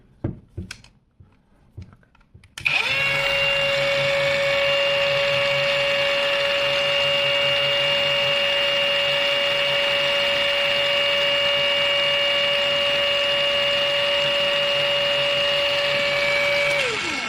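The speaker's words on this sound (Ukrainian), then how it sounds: "І коли ми вмикаємо болгарку" After a few small clicks, an Einhell TP-AG 18/125 CE Q Li cordless angle grinder starts and runs with a steady, even whine at its minimum speed of about 2,750 rpm, close by, then begins to wind down.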